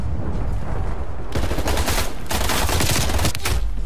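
Akimbo AMP 63 pistols fire in a video game, a dense rapid stream of loud close gunshots that runs almost continuously, with a brief quieter spell near the start before the barrage intensifies.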